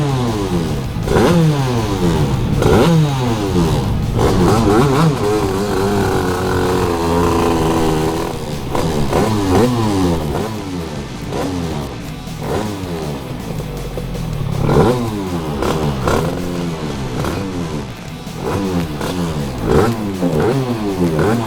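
Sprint racing motorcycle engine at a drag strip, revved repeatedly to clear out, loud close rising and falling bursts of revs with clattering, harsh tone and no talking.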